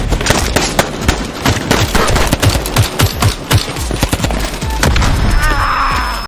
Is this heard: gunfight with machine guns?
yes